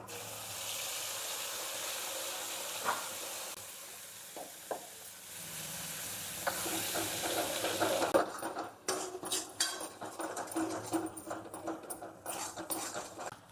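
Ground spice paste hits hot oil already crackling with mustard seeds and cumin, a soft hiss giving way to louder, busier spattering and scraping stirs, with some faint talk over it.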